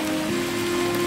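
Heavy rain pours steadily in a riverside village near a fish market on the Godavari, a dense, even hiss with no gaps, close and moderately loud and free of talk.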